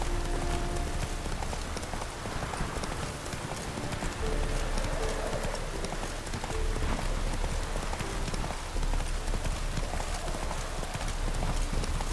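Horse hooves clip-clopping steadily in The Witcher video game, loud and close, a continuous rhythmic trot over a dense background with faint rain-like hiss.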